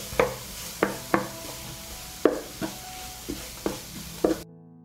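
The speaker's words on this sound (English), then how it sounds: "I will fry the onion and garlic in the heated olive oil." Onion and garlic fry in heated olive oil, a soft sizzle beneath repeated close scraping stirs at an uneven pace.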